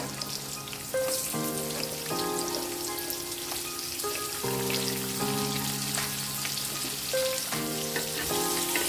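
Onion hits hot oil already browning with garlic and chili, a steady, close sizzle and crackle running throughout while music plays over it.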